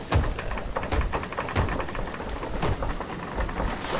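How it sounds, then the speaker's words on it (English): Storm rain pours steadily with dull thunder rumbles rolling under it in the pirate sailing game Sea of Thieves, a dense, continuous wash of downpour with heavy low booms recurring throughout. "you can't really avoid storm in this game"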